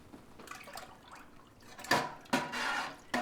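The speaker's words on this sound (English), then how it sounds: "you're going to see some of my own homemade buttermilk going into my own homemade cheese" Homemade buttermilk is poured into a pot of milk for cottage cheese, giving soft liquid splashes with a few brief, louder gushes near the end.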